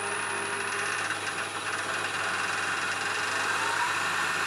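A wood lathe boring into a banksia pod hums with a steady mechanical whine that rises slightly as the speed is ramped up, close and continuous, with no talking.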